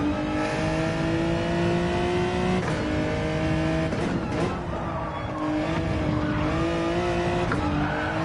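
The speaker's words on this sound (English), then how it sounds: "What was that oversteer?" Race car engine in Gran Turismo 7 revving hard and steady with tire squeal as the car oversteers, loud and continuous over about eight seconds.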